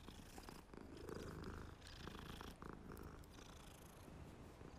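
Cats purring in Hogwarts Legacy, a soft continuous rumble that sits low and faint in the game mix, with no talk over it.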